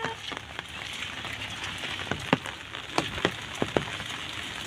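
Light drizzle falls in a valley in Angul, Odisha, with a soft continuous patter broken by a handful of sharper, nearer drops tapping a surface, loudest toward the middle and end.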